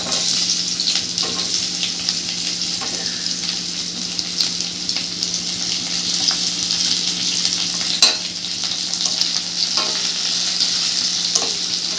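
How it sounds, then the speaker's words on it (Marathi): Chopped onion fries in hot oil in a pan for dhaba-style egg masala, giving a loud, steady, close sizzling hiss with occasional crackles that runs through the whole stretch with no talking. "आता ह्याच तेलामध्ये आपण कांदा टाकू।"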